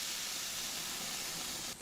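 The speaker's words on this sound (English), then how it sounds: "Sizzle. Definitely sounds like a burger and even smells like it." A fake plant-based burger sizzles on a grill as fat drips onto the flames, giving a steady, loud hiss close up that cuts off abruptly near the end.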